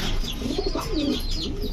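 Fancy pigeons at a pigeon farm coo in a steady low rolling call close by, with faint chirps and a busy aviary murmur underneath.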